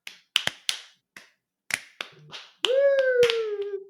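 A voice imitates sparse clapping from a small studio crew with no audience: a few scattered, uneven claps and taps, then a sustained vocal tone that glides downward.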